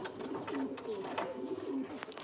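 Racing pigeons coo at close range in a soft, repeated series of low throaty calls over a steady background hiss, with no one talking.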